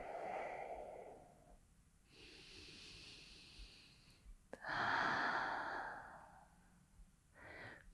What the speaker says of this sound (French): On prend encore 2 respirations ici.